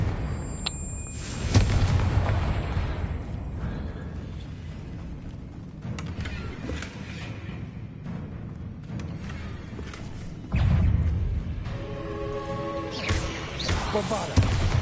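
Confringo spell explosions in Hogwarts Legacy land as heavy booms, spaced several seconds apart, over ongoing game sounds.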